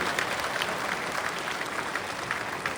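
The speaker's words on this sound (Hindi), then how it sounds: "और आप सब अपनी तालियों के प्रणाम से उनका स्वागत और अभिनंदन करेंगे।" Audience at the opening of a Uttar Pradesh Khadi festival applauding to welcome guests, a steady wash of many hands clapping at a moderate distance with no voices on top.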